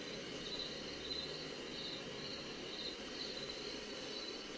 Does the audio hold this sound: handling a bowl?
no